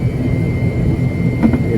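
A Boeing 737-800 jet sits at an airport terminal, its engine giving a loud, steady roar and whine heard up close without pause, with no voices over it.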